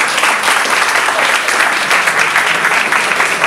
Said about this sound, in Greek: Ένα χειροκρότημα για το Running Greek Gamer